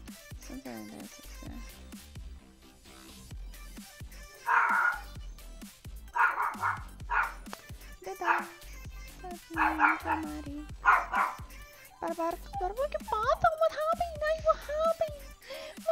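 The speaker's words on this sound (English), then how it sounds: "dogs." Dogs barking indoors in short repeated bursts, loud and close, with whimpering and whining yips between them and a person talking in the gaps.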